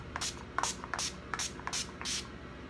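Six short bursts of a makeup setting spray pump mist, evenly spaced and close, each a brief airy hiss.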